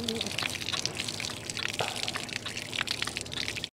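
Water running and splashing from a newly installed hand pump outdoors, a steady trickling gush throughout, with people talking in the background.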